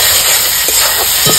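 Eggplant frying in hot oil in a pan while being stirred, a steady close sizzle with a few soft scraping strokes of the spoon near the end.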